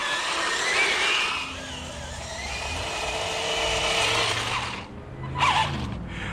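RC smoke-producing tank crawling over loose gravel, with a continuous grinding, crunching rattle from its tracks and a steady motor whine, close and fairly loud throughout.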